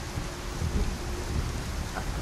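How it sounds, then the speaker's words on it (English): Steady rainfall with a low rumbling undertone of thunder fills a Skyrim game scene, a constant dense wash of sound with no voices. "I wonder if we should get some shelter. Wait out this rain."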